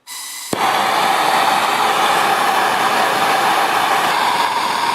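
A Bernzomatic TS8000 propane torch ignites with a sharp click, then roars with a loud, steady, continuous hiss up close.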